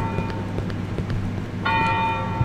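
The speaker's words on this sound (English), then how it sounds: "It's a bell." A church-style bell tolls in the horror video game Cry of Fear, a single clear ringing strike that sustains and hums over a low droning game ambience.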